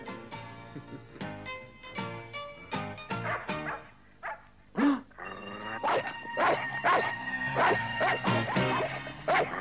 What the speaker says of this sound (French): Méfie-toi, Benjamin, ce chien est un monstre.